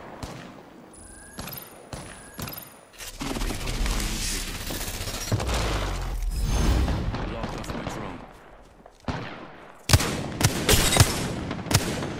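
Bursts of automatic gunfire from an Apex Legends match, a sustained volley across the middle then sharp separate shots near the end, mixed with game effects and some speech.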